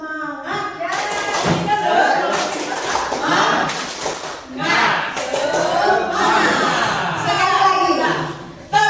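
A group claps the rhythmic Indonesian 'tepuk semangat' spirit clap during a classroom presentation, sharp bursts of claps in patterned sequences filling most of the stretch, with voices and brief laughter mixed in.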